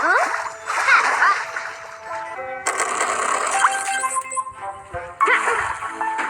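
In the My Talking Tom mobile game, bath-time water splashes and splatters in bursts. Bright chiming jingles and tonal game music play around the splashes.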